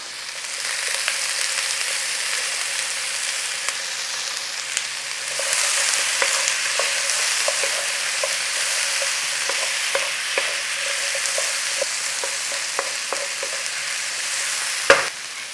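Garlic and ginger paste fries and sizzles steadily in a pan for a sweet and sour noodle dish, with sharp clicks and scrapes of stirring standing out now and then and one louder knock near the end.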